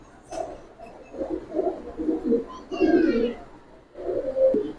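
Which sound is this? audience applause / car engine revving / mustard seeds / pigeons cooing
pigeons cooing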